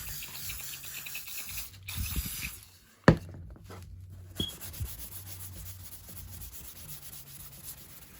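A Yamaha 350 ATV part is rubbed with fine steel wool and oil, giving quiet scratchy scrubbing strokes with a sharp click partway through and soft rasping bursts afterward.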